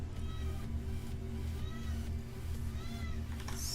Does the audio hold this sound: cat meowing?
yes